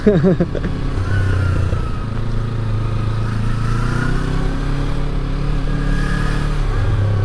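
A Yamaha MT-03 motorcycle rides slowly through congested traffic, its engine giving a loud, steady, close drone with slight shifts in pitch and other vehicles rumbling around it.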